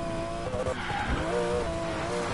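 Porsche tires screeching and skidding in a video game race, a sustained squeal over engine drone, fairly loud and continuous.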